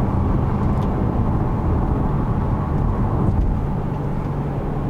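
Turbocharged four-cylinder 2018 Mercedes-Benz GLC 300 Coupe 4MATIC with a 9-speed transmission accelerating hard, heard as a steady low engine drone and road roar from inside the cabin, with no voices.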